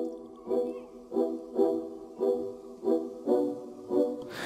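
Orchestral strings from the Action Strings library for Kontakt play a rhythmic ostinato, seven evenly spaced swelling chord pulses in a steady pattern, moderately loud and alone, in an epic cinematic intro style.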